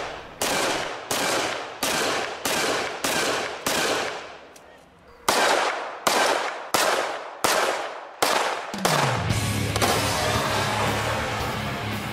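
Desert Eagle pistol fired repeatedly, a dozen loud, evenly spaced heavy gunshots with sharp reports and decaying ring, followed by a steady mechanical hum at the end.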